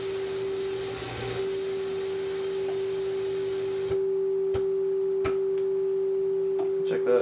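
A pure, steady sine tone from a Sencore SG165 AM-FM analyzer's frequency generator holds unbroken throughout, with soft background hiss that drops away partway and a few faint clicks near the end.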